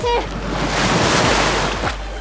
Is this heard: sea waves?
yes